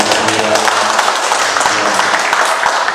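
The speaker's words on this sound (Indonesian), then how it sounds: "Tepuk tangan buat Gus Jim dulu." A crowd at a fitness talk breaks into dense, steady applause for Gus Jim, with a voice faintly audible beneath the clapping.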